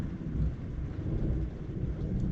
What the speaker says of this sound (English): we got a raging thunderstorm going on outside